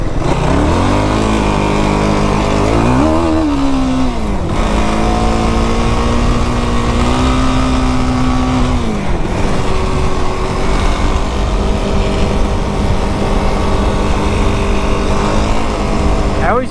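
A 2025 Yamaha YFZ450R ATV engine revs hard and continuously on a desert trail, loud and close, its pitch climbing and dropping with gear shifts and throttle changes.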